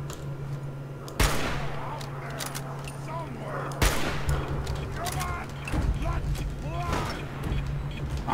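Gunfire in the video game Fallout 4: two loud sharp shots stand out, with a scatter of smaller bursts and clatter in between, and someone talks over it.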